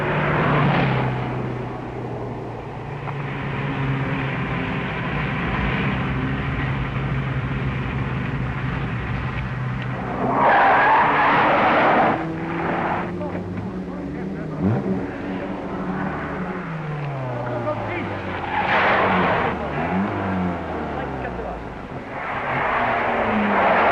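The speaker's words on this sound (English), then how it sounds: "The survivors among the smaller cars wound grimly on." Smaller rally cars on the Safari Rally drive past, engines rising and fading in repeated close passes with revving and gear changes, under steady narration.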